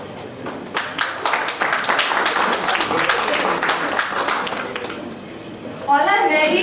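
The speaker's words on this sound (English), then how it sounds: "And then here, the applause" An audience claps through an Independence Day celebration, the applause steady and dense with voices mixed in, then swelling louder near the end.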